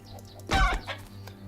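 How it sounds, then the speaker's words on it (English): Chicken in the survival video game 7 Days to Die, one sharp close squawking cluck followed by a softer second call over a low game background hum. "I was not ready for that chicken."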